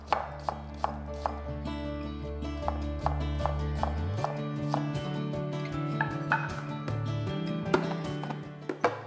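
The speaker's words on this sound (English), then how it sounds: "Two pieces of garlic, roughly chopped. Half an onion, sliced." A knife chops garlic roughly and slices half an onion on a board, giving a steady series of crisp, close thuds over a background of music.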